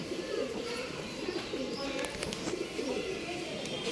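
Cooing of pigeons kept for sale, a steady low murmur of overlapping coos from several birds close by, continuing through the whole stretch with no talk.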